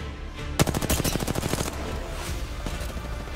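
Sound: gunfire in a shooter video game

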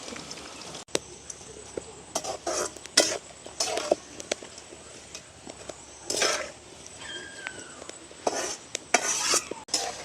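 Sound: jackfruit pieces frying in oil

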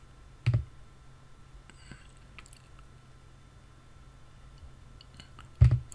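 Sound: computer mouse clicking

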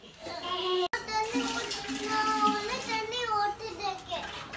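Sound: water being poured

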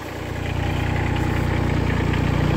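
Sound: Ditch Witch SK600 compact loader diesel engine running

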